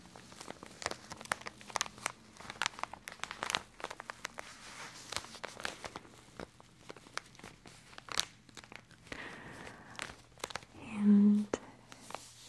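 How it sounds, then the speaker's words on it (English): Cotton rounds packaging crinkles gently and close up in a series of soft, scattered rustles, with quiet whispering in between. "It is such a sweet, gentle crinkle."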